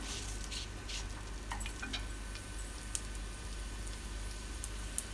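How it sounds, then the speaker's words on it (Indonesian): Garlic and shallots sautéing in a non-stick pan for spiced tofu, a soft continuous crackling sizzle with scattered sharper pops and occasional faint stirring scrapes, steady throughout. "Tumis bawang putih, bawang merah,"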